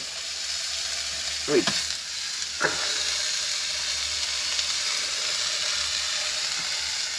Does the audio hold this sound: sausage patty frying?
yes